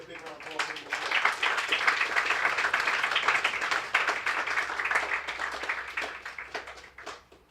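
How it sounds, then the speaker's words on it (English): An audience at a youth leadership breakfast applauds a military veteran, a dense steady wash of clapping that swells after the first second and holds loud before fading near the end, with some voices mixed in. "So give him a big round of applause."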